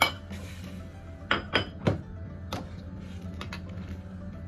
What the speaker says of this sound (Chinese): 豆腐下锅